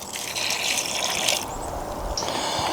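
Water poured and trickled into a thick homemade concrete mix for DIY fishing weights and sinkers, a steady close splashing fill that runs the whole time with no talk.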